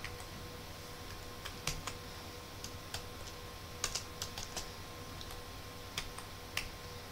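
Computer keyboard keys clacking out a terminal command, sparse irregular taps with pauses between bursts, close and fairly quiet over a steady low hum, no talking.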